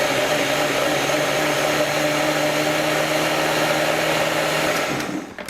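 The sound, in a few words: blender grinding red bean soup with salt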